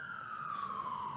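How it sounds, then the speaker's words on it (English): An emergency vehicle siren wails faintly in the distance outside, a single steady tone slowly falling in pitch over a low background hum. "I wonder if the mics could pick up the siren"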